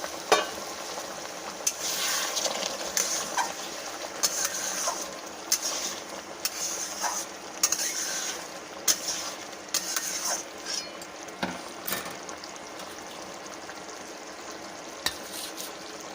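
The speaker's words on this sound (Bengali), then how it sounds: "এবার আমি সামান্য পরিমাণে গরম জল দিয়ে দেবো।" Small splash of hot water into a sizzling pan of matar paneer curry, followed by steady bubbling hiss with scattered scrapes and clinks of a spoon stirring, close and fairly quiet with no talking.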